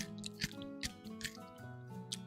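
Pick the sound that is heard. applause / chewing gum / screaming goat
chewing gum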